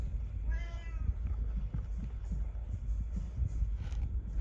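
A rescue cat gives a single clear meow near the start, asking for dinner, over a steady low background rumble.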